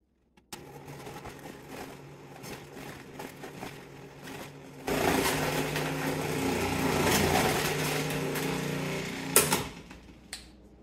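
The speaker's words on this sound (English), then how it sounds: "Throw your Brussels sprouts in the food processor with the thinnest slicing disc" A food processor fitted with its thinnest slicing disc cuts through a full load of Brussels sprouts. Light clattering leads into a louder, steady motor whir with rattling that runs for several seconds and then stops.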